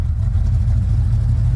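An RV's 351 Windsor engine idling close up, a loud, steady low rumble with a fast, even pulse throughout the short stretch.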